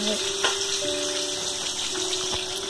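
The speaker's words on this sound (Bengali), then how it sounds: "মাছ, মাছ ভাজছি" Pona fish frying in a pan, making a steady bright hiss of oil with a faint tonal hum underneath over a few seconds.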